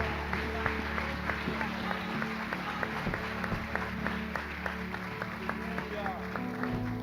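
A church congregation claps in a steady rhythm, the sharp hand claps running over sustained music or voices throughout a worship service.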